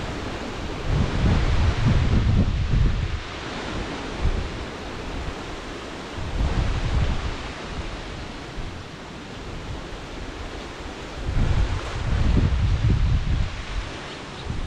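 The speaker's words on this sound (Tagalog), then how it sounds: "lakas na dating na hangin oh" Strong wind in bad weather on an eggplant farm roars against the microphone in heavy gusts, swelling and easing several times over a constant rushing background.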